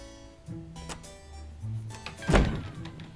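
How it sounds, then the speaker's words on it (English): A door is pushed shut with one solid thunk near the end, preceded by faint rustling and shuffling movement indoors. "Elizabeth, shut the door"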